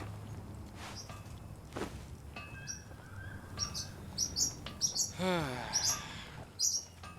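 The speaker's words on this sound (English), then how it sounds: "Birds are awake" Morning birds chirping and tweeting in short bursts, fairly near, with faint shuffling movement and soft background rumble.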